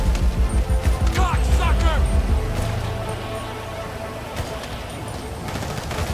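Zombie-survival gameplay in GTA 5 opens with rapid bursts of gunfire during the first two seconds, loud and close. A game engine drones and voices talk underneath, then the shooting fades into quieter background rumble.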